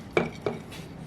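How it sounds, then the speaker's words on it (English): A spatula scrapes cheese off a dish in two short, quiet scraping strokes close by, with no talk. "You just take that spatula and scrape it off."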